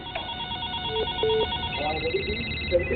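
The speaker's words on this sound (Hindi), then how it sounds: "क्योंकि घंटी बज रही है" A telephone rings with steady electronic tones, repeating over a low background hum, close and clear.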